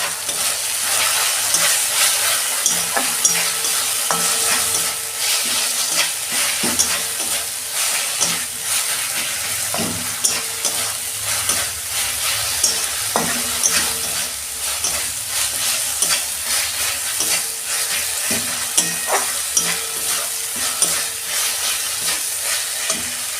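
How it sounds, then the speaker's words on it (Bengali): Masala with Kashmiri chili powder fries in a pan with a constant close sizzle and hiss, broken by irregular scraping knocks of a spoon stirring it, with no talk. "এই যে আমি কাশ্মীরি লঙ্কা গুঁড়ো দিচ্ছি। আমার মশলাটা কষানো হয়ে গেছে।"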